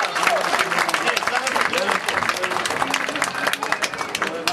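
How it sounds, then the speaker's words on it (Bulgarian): Crowd applause in Lovech celebrating the Litex football club's league title, sustained, bright clapping throughout with an announcer's voice over it. "Аплодисменти за неговия сънародник Милодраг Ешич"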